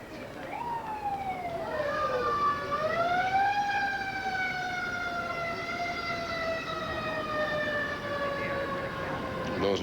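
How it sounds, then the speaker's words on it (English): Police or emergency vehicle sirens wailing somewhere in Washington, D.C., several overlapping tones rising and falling steadily, moderately distant and continuous throughout, with faint background noise. "Those are sirens, if you can hear them elsewhere in Washington"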